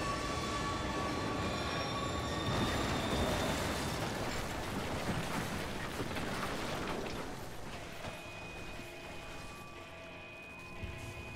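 A subway train in the video game The Darkness 2 roars through a tunnel, a loud continuous rumble with squealing metallic tones that eases and thins out in the final seconds, with no talking.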